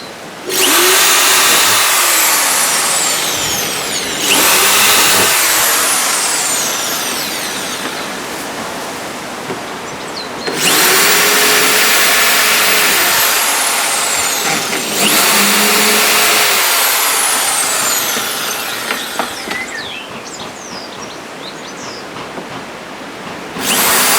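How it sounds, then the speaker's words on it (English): A slow-running variable-speed drill boring holes through decking boards, loud and close, in several long whining bursts separated by brief pauses, with no talking. "so we'll drill the rest of the holes for this piece"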